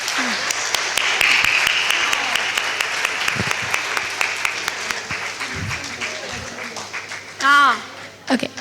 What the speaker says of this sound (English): Can we have another huge round of applause for Anita ma'am?